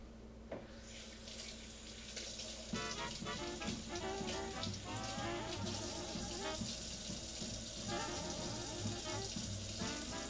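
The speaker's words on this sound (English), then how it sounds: "Let's just rinse these off." Water runs steadily from a kitchen tap as vegetables are rinsed beneath it, the stream spattering and changing pitch as the produce is turned under the flow, with no talking.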